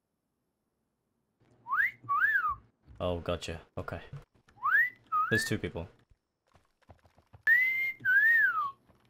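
A player in DayZ whistles over voice chat, giving several short rising and falling whistle phrases that alternate with someone talking, all close and clear against near silence.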